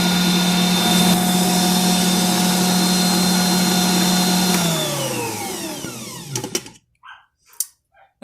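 A stand mixer kneads sourdough bread dough with a steady, loud motor whine that holds evenly, then winds down and stops, leaving a few faint clicks and knocks.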